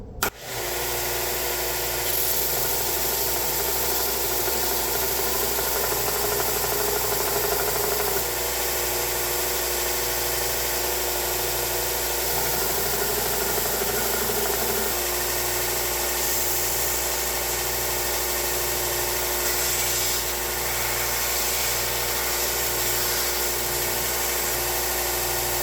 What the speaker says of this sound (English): So I think I'm going to flat grind it again, just to kind of remove some of this yuck and kind of give me a fresh surface